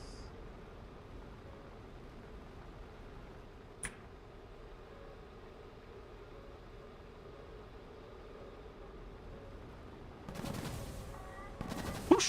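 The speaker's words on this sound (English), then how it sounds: "Who's shooting at me?" Gunfire aimed at a player's aircraft in War Thunder: a faint steady engine drone runs throughout, with one sharp crack early, then close, loud bursts of rapid shots at the very end.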